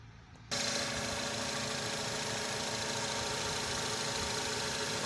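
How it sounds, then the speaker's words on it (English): A car engine idles smoothly after a spark plug replacement, a steady even rumble that starts abruptly after a half second of quiet and holds constant with no jerks. "the engine is running smoothly now. It's no longer jerking."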